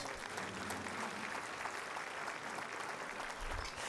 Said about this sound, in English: Let's give the military a round of applause